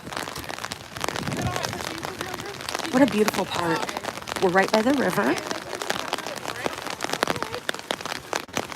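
Rain patters steadily on the ground during an Out of the Darkness charity walk through a riverside park, a constant wash of drops beneath people talking nearby.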